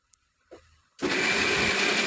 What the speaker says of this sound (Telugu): మిక్సీ పట్టేసుకుంటున్నానండి.